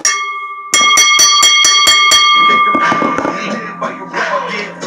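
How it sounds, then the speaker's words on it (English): A ring bell clangs at the end of a professional wrestling championship match, a rapid run of about seven sharp metallic strikes, loud and close, followed by a roaring arena crowd and an announcer's voice. "Ring the bell."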